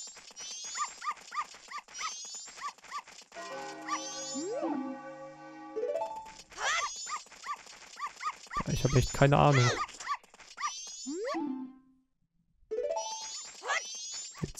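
Dogs in the dog race of Zelda: Majora's Mask 3D, heard as brief game yips and barks mixed with chiptune-style music and jingles, with a voice talking over parts.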